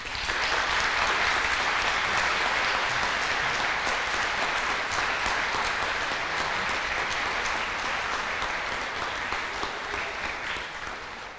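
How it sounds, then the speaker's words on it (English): Graduation audience at an academy ceremony gives a long, full round of applause, many hands clapping densely and loudly throughout before slowly easing toward the end. "let's give a round of applause to the people who made it all happen"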